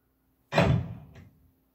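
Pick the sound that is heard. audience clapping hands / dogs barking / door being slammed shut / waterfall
door being slammed shut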